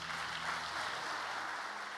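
A congregation at a church service applauds, a dense, steady wash of clapping heard from some distance at a fairly low level, sustained for the full two seconds without speech.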